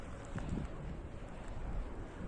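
Strong wind rushes steadily past the microphone near wind turbines, a continuous low roar with no voices.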